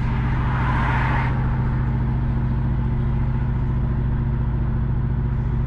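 A car drives across a highway bridge in Kingston, Jamaica, heard from inside as a steady low engine and road drone, with a brief brighter whoosh of passing traffic near the start.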